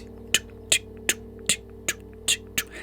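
A device hums steadily in a room, a low, constant drone that runs under sharp, evenly spaced clicks arriving roughly two or three times per second.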